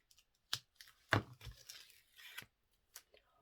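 Quiet, close crackles and a couple of short ripping sounds as a thin protective backing strip is peeled off adhesive tape, with brief pauses between pulls.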